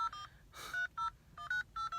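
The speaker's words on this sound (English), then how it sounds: "I just need to verify your date of birth using your touch tone." Telephone keypad touch tones pressed to enter a date of birth: a rapid series of short, clear DTMF beeps in an irregular rhythm.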